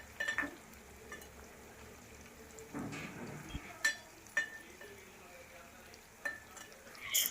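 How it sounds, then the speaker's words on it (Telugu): Bitter gourd frying in a pan and being stirred, with soft scraping and a few sharp clinks of the spatula against the pan over a low, steady sizzle, close by with no talking. "ఇలా గోల్డెన్ బ్రౌన్ కలర్లో అయితే ఇలా ఫ్రై చేసుకోవాలండి"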